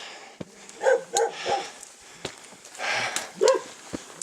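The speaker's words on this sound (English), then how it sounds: "Wild dogs." Several short, sharp wild dog barks and yips ring out outdoors at a moderate distance on stone steps through old villages in Nepal, in irregular bursts with footsteps and light rustling between them.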